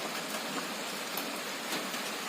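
Steady rainfall, a continuous soft patter and hiss throughout, with no talking.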